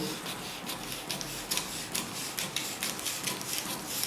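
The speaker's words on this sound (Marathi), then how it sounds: "प्रथम आपण या फ्रंटची योगपट्टी कापून घेऊ" Scissors cut through blouse fabric while a front piece is trimmed for a two-piece katori blouse, giving a close, dry rasping crunch with repeated snips in an uneven rhythm.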